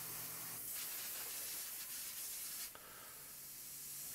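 A CNC mill makes a finishing pass to smooth the inside pocket walls of a machined fidget spinner, giving a steady, faint hissing spray of coolant and cutting that runs continuously with a brief dip partway through.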